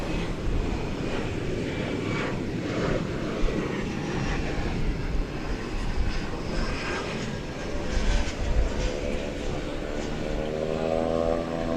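A Cessna Super Cargo Master operated for Martin Air, arriving at DFW Airport from Abilene, Texas, drones steadily through the night air, its propeller engine a constant broad hum that swells slightly toward the end.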